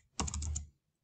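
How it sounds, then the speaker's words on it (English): A short, quick burst of typing on a computer keyboard, several close, crisp keystrokes in under half a second, then quiet. "I'm just going to type this in here really quickly"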